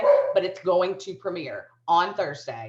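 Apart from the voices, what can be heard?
dog barking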